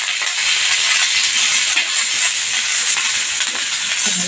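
Green chillies roasting in a hot pan, giving a steady, bright hiss and sizzle that stays loud and even throughout, with faint crackles and no talk.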